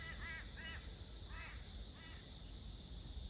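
Crows cawing in the distance, a few short harsh calls in two- and three-note bursts spread across a steady background hiss, with no talking.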